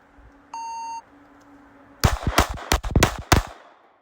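A Glock 17 Gen 6 pistol fires a rapid string of five or more sharp, loud shots on a shooting range. A short electronic timer beep sounds first, then there is a pause before the shots crack close together.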